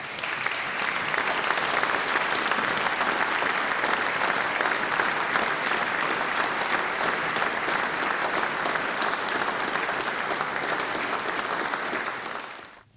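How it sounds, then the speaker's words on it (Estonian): An audience gives long, hearty applause to a men's choir of forest workers, dense steady clapping filling the hall for many seconds before tapering off abruptly at the end. "Aplaus neile!"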